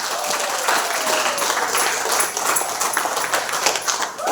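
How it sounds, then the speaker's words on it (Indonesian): A church audience at an SIB congregation in Tenom gives dense, sustained applause after a combined women's fellowship performance, a steady wash of many hands clapping throughout. "Beri tepukan."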